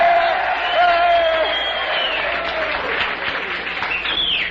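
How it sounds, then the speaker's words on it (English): A political rally crowd cheers and applauds for a candidate, a loud sustained roar of clapping and shouts with whoops, while a voice talks over it. "They're beginning to cheer again."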